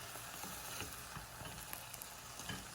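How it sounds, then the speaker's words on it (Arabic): Green beans being stirred as they fry in olive oil, giving a steady, soft sizzle with faint scraping from the stirring throughout, fairly quiet and without voices. "اعطيها تقليبتين ثلاثة حتى تتشبع من زيت الزيتون"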